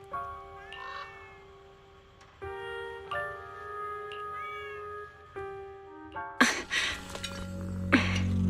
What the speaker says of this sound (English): Oh, there's a cat over there.